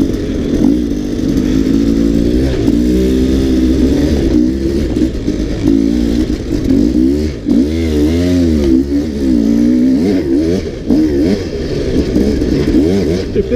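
A dirt bike on the narrow, technical Boundary Trail Loop in Gifford Pinchot forest, its engine close and loud, revving up and down continuously as the rider works through the terrain, with some clatter.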